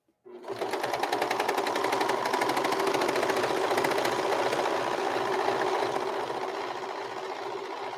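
A serger sewing machine stitches fabric for an apron, starting abruptly and then running in a fast, steady mechanical rattle for several seconds, close up with no talking.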